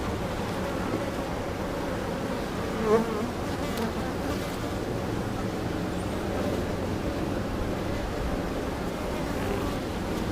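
Honeybees swarm around an open, queenless hive, making a steady, dense buzz that fills the whole stretch, close and continuous, with no talk over it.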